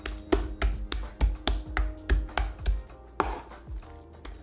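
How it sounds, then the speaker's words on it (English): A blade chops shrimp and fish paste on a cutting board in a steady run of about a dozen sharp, close thuds, with slight wet slaps between them and no talking. "After mashing once, we'll then chop the paste a bit before folding and mashing again."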